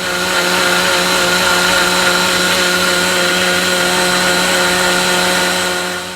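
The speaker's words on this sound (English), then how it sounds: "Transfer it into a blender. 3/4 of the blender to be filled. Cover it with a lid and blend well." A kitchen blender whirs loudly and steadily while blending a cooled, boiled tomato soup mixture for cream of tomato soup, running as a continuous motor drone for several seconds before easing slightly at the end.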